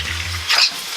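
Kimchi fried rice sizzling in a hot pan as it gets a final stir, a steady low frying hiss with one brief scraping swish of the spatula midway, close and without voices.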